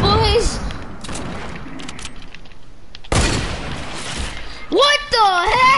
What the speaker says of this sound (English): Fireworks, boys!